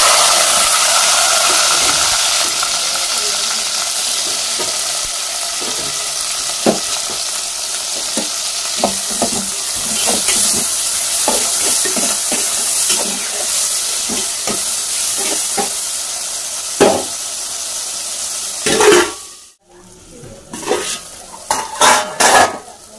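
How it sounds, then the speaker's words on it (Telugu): Ginger garlic paste frying in plenty of oil in a pan, a steady loud sizzle with repeated scraping stirs and utensil clinks against the metal, briefly cut off near the end before stirring resumes. "అల్లం వెల్లుల్లి పేస్ట్ వేసుకున్నాం."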